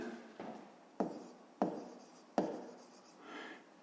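A pen writes down a fifth-grade math solution in several short scratching strokes with a few sharp taps in between, quiet and close.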